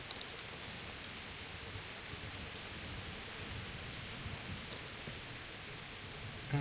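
Steady rain falling across the medieval countryside of the video game Kingdom Come: Deliverance, a broad, even hiss that stays constant and fairly quiet throughout with no talking over it.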